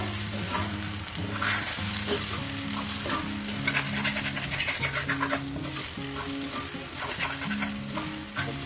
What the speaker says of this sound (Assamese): এতিয়া ভালদৰে লৰাই থাকিব লাগিব।